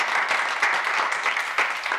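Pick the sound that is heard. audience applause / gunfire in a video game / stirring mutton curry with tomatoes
audience applause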